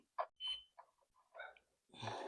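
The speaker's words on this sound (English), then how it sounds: "It's beeping again" Electronics on an RC Flywing Bell 206 V3 helicopter beep faintly in a few short, separate electronic chirps, quiet and close, with near silence between them and a brief burst of noise at the end.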